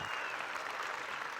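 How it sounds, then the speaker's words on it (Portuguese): Audience applause at a corporate HR event, a dense, steady wash of many hands clapping together, sustained and even throughout the short stretch without voices on top. "Eu queria uma salva de palmas para o Dudu"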